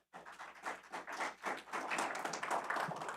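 A council meeting audience claps steadily for a few seconds, the applause building slightly and sounding somewhat distant and muffled in the meeting room.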